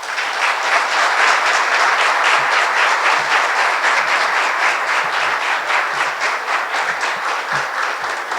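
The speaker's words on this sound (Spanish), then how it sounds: "Merecidos aplausos" Sustained applause from an audience at an academic lecture, dense, even clapping from many people held at a steady level throughout.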